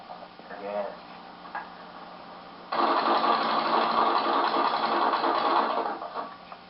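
An old engine with the exhaust plugged and no gas tank is cranked over after an oil change, catching suddenly into a loud, rough, continuous clattering run that holds for several seconds before cutting off. Brief speech and faint clicks come first.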